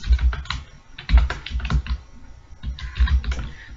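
Typing on a computer keyboard while writing C code, with quick irregular bursts of clacking keystrokes and short pauses between them, close and fairly loud, with no talking.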